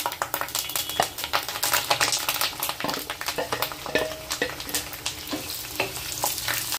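Onions and green chillies with curry leaves crackling in hot oil in a pan, a dense, steady sizzle with sharp pops and spatter throughout, close and fairly loud, no voices.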